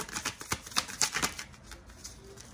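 Tarot cards being shuffled by hand during a reading, a quick run of crisp papery riffles and slaps close by, with no talk over them.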